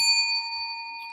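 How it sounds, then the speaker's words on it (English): A single bell struck once and left to ring, a clear bright tone with several steady overtones decaying slowly and sounding alone. "Let's ring the bell for that."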